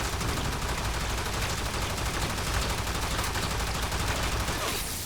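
Rapid, continuous pistol gunfire in the video game Warframe, a dense unbroken stream of loud shots with no pauses, easing slightly only at the very end.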